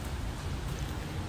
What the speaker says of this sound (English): So we're enjoying this winter with rain this year